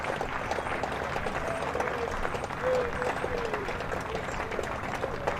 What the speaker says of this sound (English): let's listen to the applause